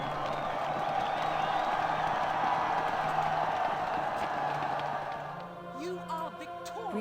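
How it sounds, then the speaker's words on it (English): Crowd applause and cheering in a strategy video game after a victory, a steady wash of clapping that fades toward the end as game music tones come in. "Here comes the applause."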